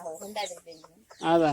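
A hen clucks loudly and briefly near the end, after a stretch of people talking close by.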